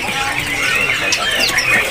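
Several Sumatran magpie-robins (kacer) caged at a market kiosk chirp and whistle in quick, overlapping bright calls, close and busy, with a low murmur of market background beneath.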